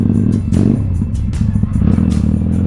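A Kawasaki Vulcan Classic motorcycle engine idles and rumbles steadily up close, with a deep low throb and occasional clattery mechanical ticks.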